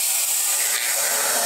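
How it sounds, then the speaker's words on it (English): A Ritter R-803 horizontal boring machine retracts its drill bits and raises its clamps after drilling wood, giving a steady, loud mechanical hiss and whir that holds evenly throughout with no talking. "the drill bits come out and the clamps slowly come up"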